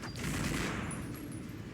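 Two light machine guns fired at once in The Punisher video game, a dense continuous burst of rapid gunfire that holds steady and loud for the whole moment.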